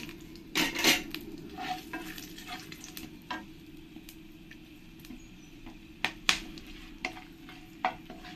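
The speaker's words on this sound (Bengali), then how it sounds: "এবার আমি এই তেলের মধ্যে 1 চামচ জিরে দিয়ে দেব।" Cumin seeds and whole spices such as dried red chillies and bay leaves sizzle in hot oil for a Bengali katla fish jhol, a soft crackle with sharp metal spoon clinks against the pan scattered throughout.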